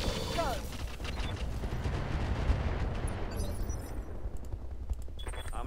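Mech weapons firing in BattleTech with the Roguetech mod, a continuous roar of rumbling, rolling blasts with dense low booms under a steady din, one sharp louder hit midway.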